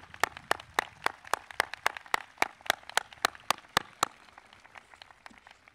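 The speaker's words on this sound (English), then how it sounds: "Let's have a nice round of applause" Sparse, sharp claps at a steady rhythm, a small group applauding briefly at a high school graduation before fading out.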